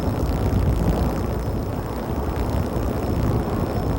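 A helicopter at a mountain-top construction site, its engine and rotor giving a steady, fairly loud broadband roar with no voices over it.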